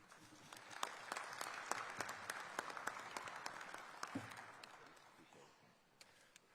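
Applause at an industrialisation investment conference, many hands clapping in a moderately faint, sustained wash with sharp individual claps standing out, tapering off toward the end; a voice briefly murmurs underneath.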